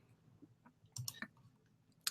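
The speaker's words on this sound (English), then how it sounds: "So I'll click on this one for you." A couple of faint, crisp mouse clicks on a computer, spaced apart against a quiet room background, with no speech.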